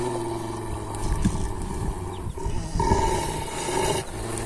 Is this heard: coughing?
no